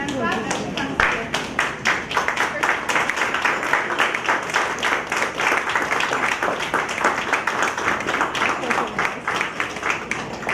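An audience at a Pflugerville candidate meeting stands and claps for a speaker coming up, giving dense, sustained applause that stays loud and steady for about ten seconds and then thins out near the end.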